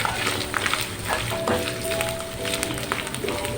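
Chopped onion frying in a pan for keema, a steady dense sizzle with crackles and occasional stirring scrapes, close and loud throughout.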